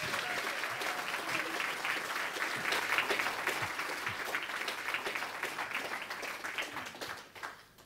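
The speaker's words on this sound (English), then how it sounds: "So please, give a big round of applause to Dr. Graham Downing." A lecture audience gives a big round of applause, sustained and fairly loud, a thick wash of clapping that holds steady before tapering off in the final second.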